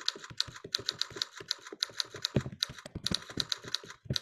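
Fingers type on a computer keyboard in a kids' coding class, a rapid, irregular run of close, crisp key clicks with brief pauses, with no talking.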